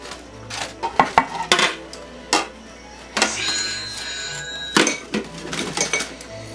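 Cooked lamb ribs shifted into a different dish, bringing close, sharp clinks and clatters of utensils against cookware in irregular bursts, with brief quieter gaps between them and no talking.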